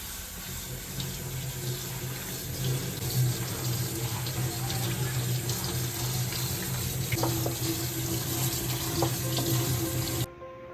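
Tap water runs steadily into a sink for about ten seconds, with faint clinks as spinach leaves are rinsed in a colander, then stops abruptly.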